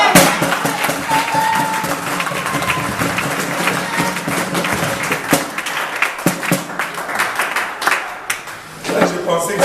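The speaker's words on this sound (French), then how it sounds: "On va l'applaudir quand même." A church congregation breaks into steady applause with scattered claps and crowd murmur, sustained and fairly loud across the whole stretch, with voices mixed in.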